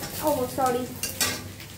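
Garlic frying in a pan gives a soft sizzle under a few spoken words, with light utensil scrapes and clinks against the pan.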